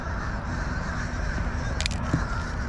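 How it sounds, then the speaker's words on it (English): Crows cawing at dawn over the Banana River in Florida, a couple of brief harsh calls rising out of steady wind and water noise, with the birds sounding fairly distant. "All the birds are migrating already."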